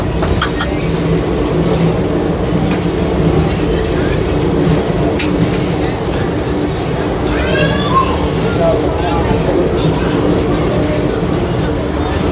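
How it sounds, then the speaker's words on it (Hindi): The Shri Ganganagar - Rishikesh Express rolls along after leaving Saharanpur, a loud continuous rumble and clatter of wheels heard from onboard, with occasional sharp squeals and faint voices mixed in. "हमारी ट्रेन सहारनपुर से चल चुकी है।"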